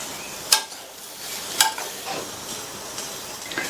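Spoon stirring brinjal masala curry in a pan with chopped coriander leaves, stove off: a few sharp scrapes and clinks of utensil against metal at irregular intervals over soft background rustle, fairly close, no talk.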